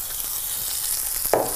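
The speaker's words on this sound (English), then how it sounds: "Sometimes when I'm pan frying something like this" Fish pan frying with a steady, close hiss of sizzling oil that holds evenly throughout, with a brief louder crackle near the end.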